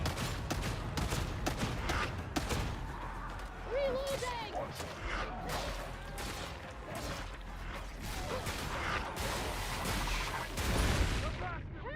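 Heavy combat in Warhammer 40,000: Darktide: rapid gunfire and sharp impacts crackle nonstop, with an explosion and crashing debris amid the chaos, while a voice speaks over the din.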